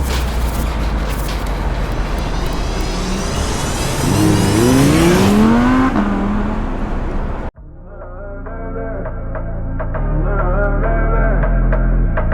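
A 2017 Renault Clio 3 RS phase 1 engine revs hard, rising in pitch to a loud peak before cutting off abruptly, then idling and building again with no talking.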